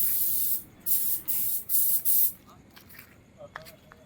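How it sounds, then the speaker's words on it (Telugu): Spray painting of plaster Ganesh idols in a workshop, heard as four loud hissing bursts of about half a second each in a steady rhythm, followed by quieter background noise with faint voices. "ఇక్కడ అన్న స్ప్రే కొడుతున్నాడు."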